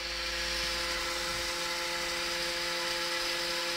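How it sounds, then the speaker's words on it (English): A small bendable USB fan runs close by, its motor giving a steady whirring hum with tonal buzz and a faint rattle against a laptop, constant and fairly quiet. "There is quite a breeze coming off, but as you might hear, it's quite noisy. And it might even be rattling the laptop a little bit."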